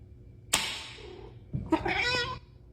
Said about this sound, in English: You got a loud meow.